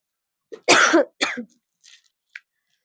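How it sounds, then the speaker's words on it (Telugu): Two loud, rough coughs close up, followed by a few faint throat sounds and a brief click, then quiet. "ఇంకా దగ్గు కూడా యాడ్ అయినట్టుంది"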